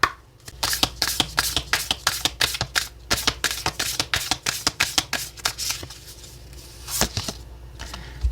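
Oracle cards being shuffled by hand, a quick run of crisp riffling flicks in steady rhythm, close and fairly loud, pausing briefly near the end before resuming.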